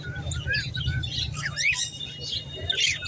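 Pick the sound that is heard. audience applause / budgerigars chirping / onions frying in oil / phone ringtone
budgerigars chirping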